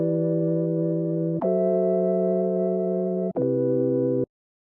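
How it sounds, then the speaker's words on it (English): Sustained chords from a noisy, detuned sine-wave synth one-shot playing three simple major 7 chords, each held about one and a half to two seconds with clean changes between them, then a sudden stop. "I started with this one shot that I made myself. It's like a noisy detuned sine wave"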